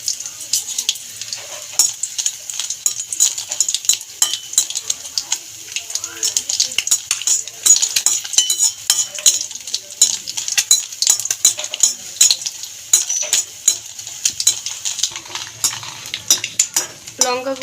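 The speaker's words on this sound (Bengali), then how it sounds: "কড়াইতে প্রথমে আগে আমি দুটো শুকনো লঙ্কাকে নেড়ে ছেড়ে ভেজে নেব।" Two dry red chillies are stirred and fried in an empty kadai over a gas flame, with continuous scraping and clinking of a spatula against the metal and a light crackle, and no voices.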